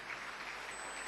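Congregation in a church service applauding together, a steady dense wash of many hands clapping at a distance, filling the whole brief moment without talk.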